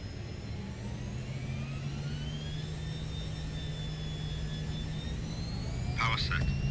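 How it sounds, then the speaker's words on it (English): Fokker F28 jet engines spooling up for takeoff in Microsoft Flight Simulator, a steady loud roar with a low drone and rising high whine that runs throughout. A brief chirping sound comes near the end. "all right, let's go ahead and take off."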